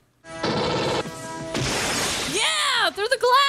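Glass shatters loudly and close during a tense alien attack scene in the film Aliens, a sharp crash with scattering debris followed by shrill creature screeches and shouting voices.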